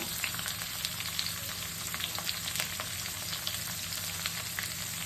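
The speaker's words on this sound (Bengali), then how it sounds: "এই কাঁচা লঙ্কা পেঁয়াজ ভাজা হবে" Green chilies and chopped onion frying in a pan, a continuous close sizzle with small crackling pops scattered throughout, steady and moderately loud with no talking.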